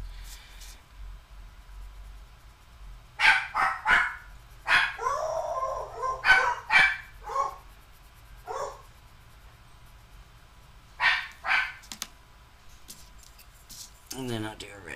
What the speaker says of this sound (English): They might be barking at me